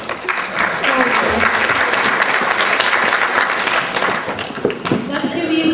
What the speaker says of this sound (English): Let's give you some officers a round of applause.